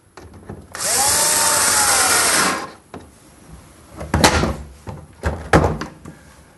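A power screwdriver whirs for about two seconds up close, screwing an Indesit washing machine door back on, followed by several sharp clunks and thuds of the door being handled.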